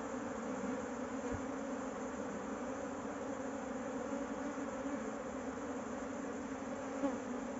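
Bee swarm buzzing steadily around a hive set in a tyre, a dense continuous hum at low, even volume with no talk.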